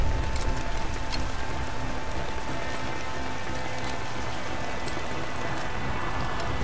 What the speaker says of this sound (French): Et nous nous retrouvons sous la pluie pour changer.